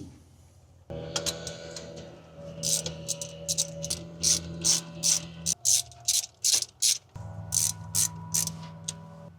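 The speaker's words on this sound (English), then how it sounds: "now I'm gonna get a ratchet with an extension and take all the bolts off" A ratchet with an extension loosens the bolts on a Holley carburetor. It gives close, rapid clicking bursts that stop and start in a steady rhythm over a low background hum.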